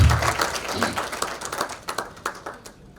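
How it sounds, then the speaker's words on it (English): Applause from a panel-discussion audience, full at first and then tapering into scattered, separate claps as it dies away. "Another round of applause to the PC"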